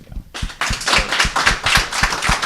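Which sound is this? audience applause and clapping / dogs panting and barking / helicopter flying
audience applause and clapping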